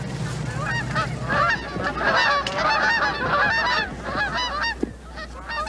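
A large flock of geese on the shore gives loud, dense, overlapping honking calls that continue without a break throughout, with no voices over them.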